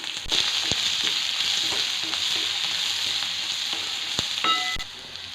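Steady, bright sizzle of chopped shallots frying in hot oil, with occasional sharp pops and crackles, close and continuous throughout.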